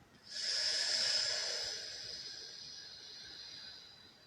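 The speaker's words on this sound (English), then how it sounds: "we're going to suck in and try and make a hissing sound." A long hissing inhale drawn through the teeth, rising quickly then tapering off slowly over several seconds, close and quiet, with no talking.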